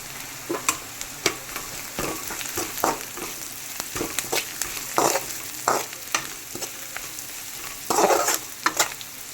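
Onion and egg frying in a pan with turmeric, a steady close sizzle broken by repeated stirring scrapes of a spoon against the pan.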